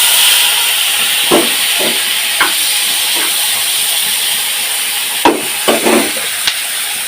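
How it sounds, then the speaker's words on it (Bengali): Sliced onion goes into hot oil left from frying fish, giving a steady loud hiss with several sharp knocks and scrapes of a utensil. "এখন এই পেঁয়াজ এই গরম তেলে দিয়ে দিব।"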